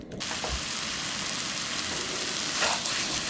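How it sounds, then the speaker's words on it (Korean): Pork for spicy Korean stir-fry sizzles in a hot pan, a steady hissing sizzle with faint crackles and pops throughout. It sounds close and constant, with no talking. "고기가 이제 지글지글 소리가 날 때까지 그냥 가만히 펴놓고 기다려주세요."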